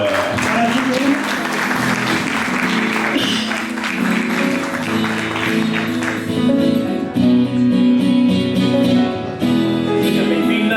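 Studio audience applause on a Brazilian night talk show as a guest's wife is invited up, clapping running under loud background music with a steady beat throughout.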